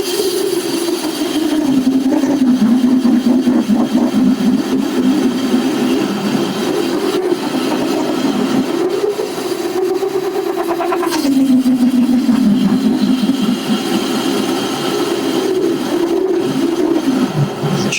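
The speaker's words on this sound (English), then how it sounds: "Now we're cutting. I'm going to need some more power on the lathe." A small lathe parts off steel at slow speed, its motor drone loud and continuous, dipping and rising in pitch as the cut loads and eases.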